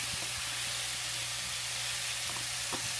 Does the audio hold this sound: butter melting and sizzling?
yes